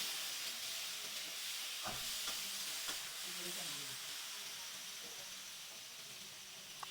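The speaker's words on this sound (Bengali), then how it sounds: "একটু ভালো করে আলু বেগুনটা কষিয়ে নিচ্ছি" Potato and eggplant sizzle and fry in a pan while being stirred, a soft steady hiss broken by a few scraping stirs, close and moderately quiet with no talk.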